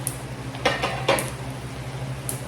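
A lid goes onto a heavy cooking pot of chicken feet Bicol Express with turmeric, giving a few metallic clanks and scrapes against a steady low hum.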